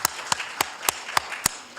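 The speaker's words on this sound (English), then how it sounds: "I'd like to thank our speakers and give them a round of applause for coming tonight." Sparse clapping after forum speakers at a League of Women Voters candidate forum: six sharp, evenly spaced claps, fairly faint, as if from only one or two people, with no other sound between them.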